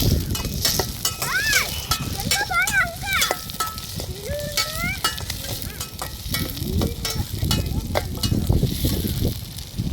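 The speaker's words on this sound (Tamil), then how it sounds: "இவன் வெங்காயம், பூண்டு எல்லாமே சேர்த்து நல்லா வதக்கி விட்டுக்கலாம்." Onion and garlic sautéing in a pan for a village tamarind curry, a steady sizzle and stirring scrape with bird chirps nearby and a voice speaking over it.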